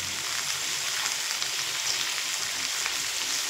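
Pointed gourd sizzles steadily in a hot pan while being stirred, a soft, continuous crackle of frying heard close with no talking.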